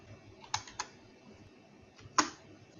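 A few sharp keystrokes clatter on a computer keyboard, two quick clicks followed by a pause and then a louder single tap, close and isolated in a quiet room.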